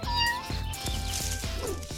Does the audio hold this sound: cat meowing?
yes